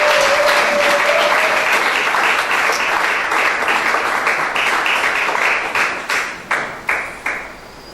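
Steady congregational applause at an Easter retreat as a church gathering acclaims the Lord, full and sustained, then thinning into a few separate claps near the end.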